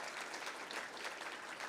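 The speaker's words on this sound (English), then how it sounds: "round of applause" An audience at a State of the City 2025 address gives a round of applause, a faint, steady wash of many hands clapping without a break.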